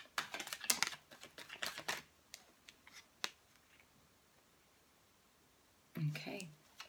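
Tarot cards are shuffled in quick, crisp bursts of riffling and slapping, close and quiet, with a few isolated taps after the main flurry and a short spoken phrase near the end.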